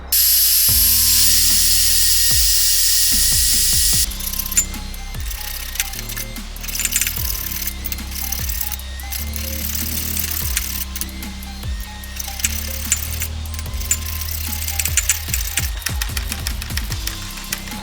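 A power tool grinds through a Katana 600 motorcycle chain, starting with a loud, sustained high grinding whine for several seconds. It is followed by scattered metallic clicks and ratcheting knocks close by.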